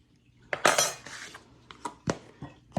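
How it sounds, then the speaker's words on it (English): A spoon clinks and scrapes against a bowl while dry cornbread ingredients with baking powder are stirred together, giving a few quick bright clatters followed by lighter, scattered taps nearby. "So I'm going to mix my dry ingredients up really quick."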